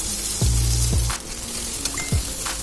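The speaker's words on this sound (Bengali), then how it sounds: "পেঁয়াজটাকে আমি একদম হালকা করে ফ্রাই করব।" Chopped onion fries lightly in oil in a wok. A continuous hissing sizzle is broken by a few dull knocks and scrapes of a utensil.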